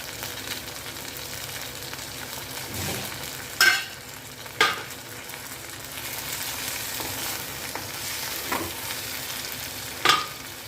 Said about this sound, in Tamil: எல்லாமே உங்களுக்கு வதங்கி வரட்டும்.